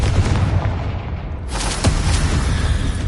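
A Confringo spell explosion in Hogwarts Legacy: a low, rumbling blast with a sharp boom about halfway through, over steady deep rumble.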